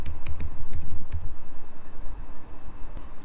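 Keys clack on a computer keyboard as a username and password are entered, giving a quick irregular run of close, crisp taps over low background rumble, with no talking.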